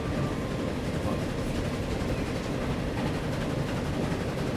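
In Transport Fever, a train rumbles along the track as a constant, even roar of wheel and rail noise, steady and fairly loud throughout with no distinct clicks standing out.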